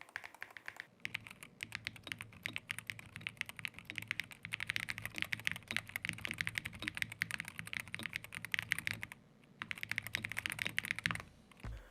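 Rapid, steady typing on a Corsair MAKR PRO 75 magnetic keyboard with PBT keycaps, heard up close in a work studio as a dense run of clacky keystrokes with a brief pause near the end and no talking.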